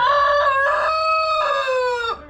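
Backyard farm rooster, one known to attack people, crowing a single full cock-a-doodle-doo close by, a loud harmonic call with a rising-and-held middle and a falling close, with no voices over it.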